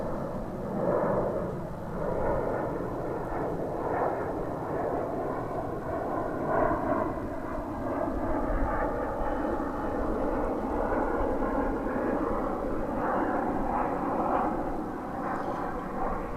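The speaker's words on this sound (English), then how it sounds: "that was another American Eagle flight that's on its way to Brownsville, another Embraer 175" American Eagle Embraer 175 regional jet engines roaring steadily and loudly at DFW Airport, a continuous broadband rumble sustained throughout.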